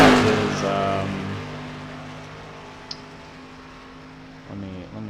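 Race car engine in iRacing droning at a steady pitch and fading down as it grows quieter, then a brief rise near the end, with a voice speaking early on.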